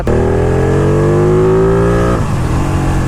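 A superbike engine of close to 200 horsepower revs up close and loud, its pitch climbing steadily for about two seconds before dropping off abruptly into a rough idle.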